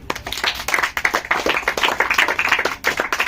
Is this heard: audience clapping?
yes